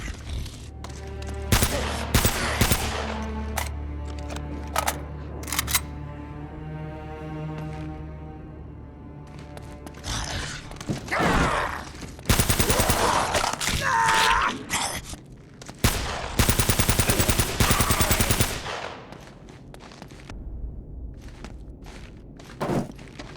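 Enemies being shot in Uncharted: Drake's Fortune Remastered, with scattered loud gunshots and short fusillades spread across the stretch, separated by quieter gaps with thuds and a low droning hum underneath.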